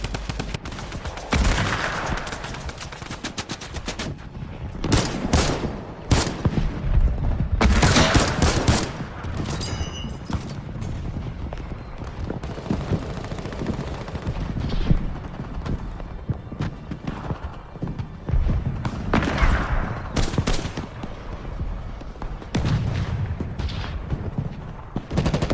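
Gunfire in a World War II battle in Fortnite: repeated rifle and machine-gun bursts crack near and far across a long stretch, steady and loud, with only occasional faint voices.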